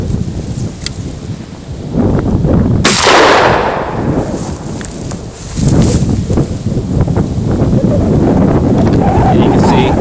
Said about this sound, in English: I'm going to fire the shotgun.